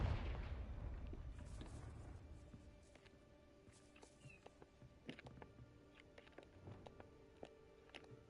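Confringo blasting spell in Hogwarts Legacy: a heavy explosive boom opens, then fades into a rumbling tail, followed by scattered crackles and smaller pops at moderate distance.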